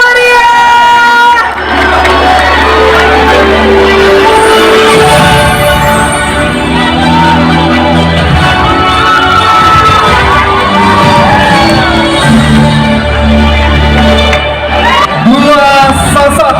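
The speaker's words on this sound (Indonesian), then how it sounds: "Berikan tepuk tangan yang meriah" A crowd cheers, whoops and shouts loudly as the regent and vice regent of Maros are welcomed at an anniversary event, with music playing underneath and sustained noise throughout.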